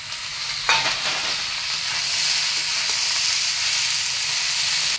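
Ginger-garlic paste frying in hot oil for a ribbon-fish curry, with a steady close sizzle and hiss throughout and a brief scrape of stirring near the start.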